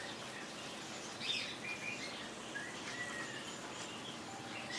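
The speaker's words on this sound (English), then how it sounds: "I have Indian ringnecks" Indian ringneck parakeets and other caged birds at a bird farm give faint, scattered chirps and short calls over a soft background hiss, distant and sparse throughout.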